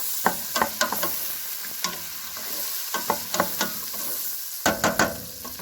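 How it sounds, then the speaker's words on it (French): Diced carrots and onions sautéing briefly in a pan for a mirepoix: a soft, even sizzle broken by quick scraping clicks of stirring, close and fairly quiet. "On ajoute des carottes et des oignons qu'on va pincer"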